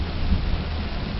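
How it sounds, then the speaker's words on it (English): Rain beginning to fall outdoors during strange stormy weather: a short, steady hiss of rainfall over a low rumbling background, loud and close throughout. "Starting to rain."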